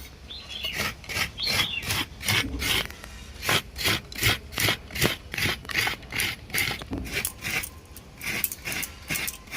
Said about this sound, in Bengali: এবারে আমি নারকেলটা কুড়িয়ে নেব